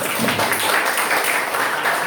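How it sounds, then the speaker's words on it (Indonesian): A school class applauding together at the end of a lesson, steady dense clapping from many hands filling the room without pause, fairly loud and continuous throughout. "Tepuk tangan untuk kita semua."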